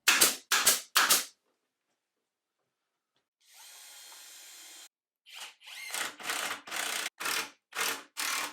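Three sharp pneumatic brad nailer shots in quick succession, then a hissing air burst, followed by a rapid string of six or seven loud nail-gun firings.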